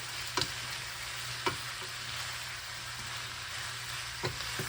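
Onions fry in hot oil with a steady, dense sizzle while two spoons stir them, giving a few soft scraping clicks over the continuous frying hiss.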